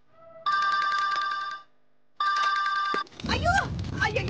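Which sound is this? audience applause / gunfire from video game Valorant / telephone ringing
telephone ringing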